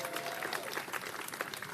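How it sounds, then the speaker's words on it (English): Audience at a mayoral public event applauding, a quiet, distant patter of many hands clapping in quick irregular bursts, faint throughout the short stretch. "Let's give Andy King a strong round of applause as well."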